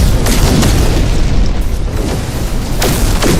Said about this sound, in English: Switch to our rockets. One-shot them.